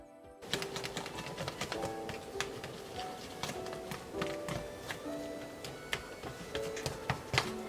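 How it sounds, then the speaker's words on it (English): Powder being stirred into a pumpkin-smelling mixture, heard as a steady run of quick tapping and scraping clicks from a utensil against a container, close and fairly quiet, without talk. "And then start stirring it up"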